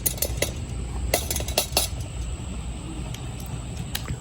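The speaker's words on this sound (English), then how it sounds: "I'm cutting the garlic for the tzatziki sauce." Garlic being cut with a knife for tzatziki sauce, clean clicks and clinks of the blade on a board coming in scattered bursts over a low room rumble, with no talk.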